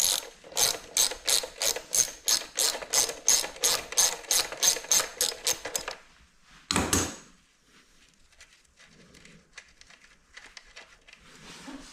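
Ratchet undoing a 13 mm bolt on the shock of a Talaria MX5 electric dirt bike: a steady run of rapid, close clicking for several seconds, a brief louder clunk, then faint handling noises.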